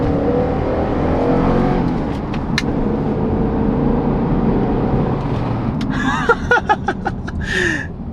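A Jeep on quad air suspension accelerating gently, a steady close engine drone filling the cabin throughout, with a few small clicks and tonal chirps near the end.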